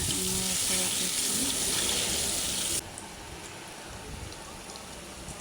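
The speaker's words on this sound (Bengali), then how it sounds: "আমি যে তেলে মাছ ভাজছি সেই তেলে আবার পেঁয়াজ কুচি দিয়ে দিয়েছি। পেঁয়াজ কুচি দিয়ে নাড়াচাড়া করছি।" Chopped onions thrown into hot oil left from frying fish and stirred around, giving a loud, dense sizzle that cuts down abruptly to a quieter crackle partway through.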